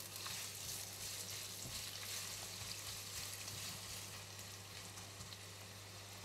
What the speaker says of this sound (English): Once oil is hot, add in all the ginger strips and all of the spices. Stir and cook for 30 seconds